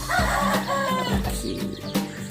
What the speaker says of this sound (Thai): ชุดนี้จะเป็นลูกไก่นะครับ